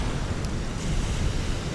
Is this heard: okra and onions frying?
no